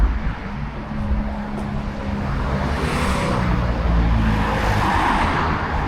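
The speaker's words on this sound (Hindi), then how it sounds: "ये देखो, पहाड़े से गाड़ी आ रही हैं, उधर जा रही हैं, इधर से ऐसा जा रहा है" Cars driving past on a hillside road, a continuous roar of traffic with engines and tyres swelling and fading as vehicles pass, loud and close throughout.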